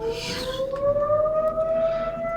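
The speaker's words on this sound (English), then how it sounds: "Everybody hears like a rumbling, and like there's this loud siren in the background." A loud siren rises steadily in pitch over a low rumble in a tabletop game session, one continuous wailing tone holding for the whole stretch with no talking over it.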